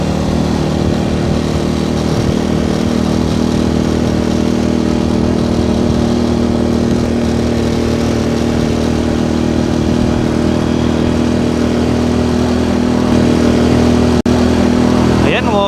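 A motorcycle engine runs steadily and loudly while overtaking on a road near Dingalan, a constant droning hum that fills the whole stretch with faint voices beneath it.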